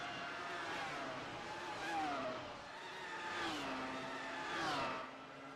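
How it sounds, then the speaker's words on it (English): Race cars sliding around the Charlotte Roval track during testing, engines rising and falling in distant revving sweeps with faint tire noise, steady and far off. "there are a lot of cars sliding around."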